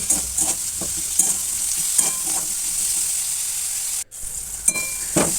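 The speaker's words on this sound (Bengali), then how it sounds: "এই যে পেঁয়াজটা ভাজা হয়ে গেছে হালকা লাল করে ভেজে নিলাম" Onions frying in a pan until lightly browned, a constant close sizzle broken by repeated scraping stirs of a utensil at an uneven rhythm.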